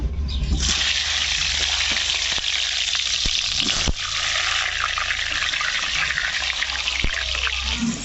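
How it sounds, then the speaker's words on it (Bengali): Steady, loud sizzling and crackling of potatoes frying in hot oil, continuous throughout with occasional sharper pops and stirring scrapes. "আলুগুলোকে ভেজে নেব।"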